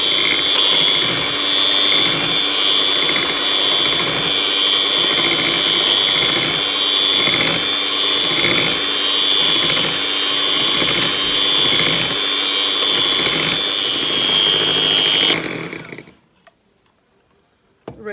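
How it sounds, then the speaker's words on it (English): An electric mixer whips eggs and yolks for an Italian lemon mousse, giving a steady, loud rattling whir with a rapid ticking texture that runs continuously before cutting off abruptly near the end. "we start whipping the eggs and the yolks until they are fluffy and quite light"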